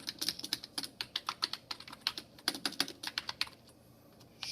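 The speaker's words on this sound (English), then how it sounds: "We can test the keyboard out." Keys typed on a Bondi Blue G3 iMac keyboard: a quick run of light plastic clicks in an uneven rhythm, close and clear, stopping briefly before the end.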